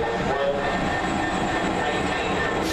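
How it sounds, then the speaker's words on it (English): A train stands at a platform at Peterborough station, a loud, steady rumble and hum of engine and rail noise that continues throughout without a break. "Train awaiting platform 1B, north end of platform 1."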